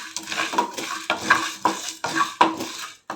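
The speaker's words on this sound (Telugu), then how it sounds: "జీలకర్ర మిరియాలు కూడా కొంచెం కొద్దిగా వేసాను, అవి కూడా లైట్గా వేపుకుందాం." Cumin seeds and black pepper lightly roasting in a pan, stirred with a utensil in a series of about six rhythmic scraping strokes with faint sizzle and small metallic clinks, close and clear.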